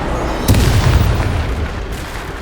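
The Confringo explosive spell in Hogwarts Legacy goes off as a single loud, close boom with a sharp onset and a deep rumbling tail that lingers over steady background noise.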